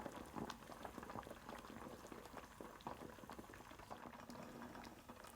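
Water and sweet chestnut syrup coming to a bubbling boil in a pot, a dense, even crackle of small bursting bubbles that keeps on without a break and stays soft, with no voices.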